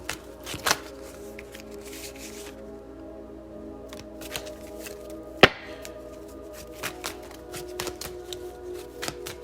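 Soft, irregular riffling and shuffling of tarot cards with occasional sharper snaps and taps, close by and fairly quiet, no talking.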